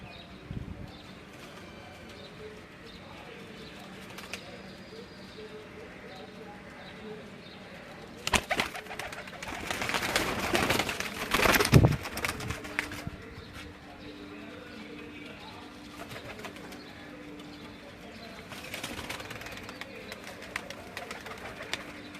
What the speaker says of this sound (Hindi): ये मियाँ नज़ीर के घर की लाल परी ब्रीड के कबूतर जो हैं ये आपको दिखाए जा रहे हैं।